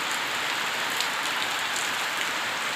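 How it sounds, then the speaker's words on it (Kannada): Heavy monsoon rain pours down in a village, a dense, loud, continuous hiss of drops pattering on surfaces, close by and steady throughout, with no voices. "ಸಿಕ್ಕಾಪಟ್ಟೆ ಮಳೆ ಬರ್ತಾ ಇದೆ."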